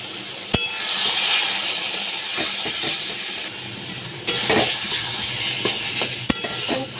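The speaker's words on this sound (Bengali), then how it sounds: "ভালো করে আমি শাকগুলোকে কষিয়ে নিচ্ছি একদম শুকনো শুকনো মতো হয়ে যাবে" Taro leaves with prawns being sautéed in a pan, heard as a steady frying hiss with intermittent scrapes and clinks of a spatula against the metal.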